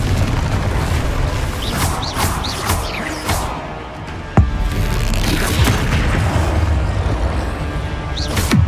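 Confringo, an explosive fire spell, goes off in Hogwarts Legacy combat, with a sharp booming blast cutting through a dense, continuous clatter of battle effects.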